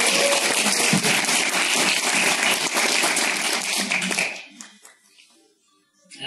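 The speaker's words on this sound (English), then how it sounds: "Peter, a round of applause" Round of applause for a contest winner at a live keto podcast recording at a festival, loud crowd clapping for about four seconds before cutting off sharply into near silence with faint voices.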